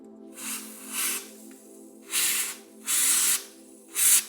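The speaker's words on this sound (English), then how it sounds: "A little more penetrant for good measure, and some more heat and cool" Penetrant and cooling spray hiss onto a seized bottom bracket of a Kona Fire Mountain bicycle in about five short bursts, each a close, sharp aerosol spray with quiet gaps between.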